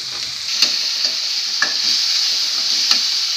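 Garlic, onion and dried chili fry in oil for a mustard greens dish, giving a steady close hissing sizzle with a few sharp scrapes and clicks from stirring.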